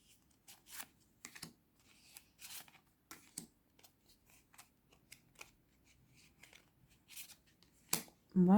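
Tarot cards laid out one by one in a pyramid spread, giving a string of soft, brief snaps and slides on a table, close and quiet, with a louder rustle at the end.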